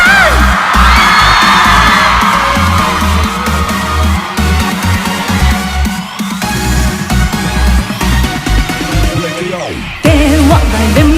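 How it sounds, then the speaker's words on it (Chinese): Audience screaming, whooping and cheering at a live televised stage show in 2024 during a performance, with the loud crowd noise running throughout over booming stage music. "尖叫声！"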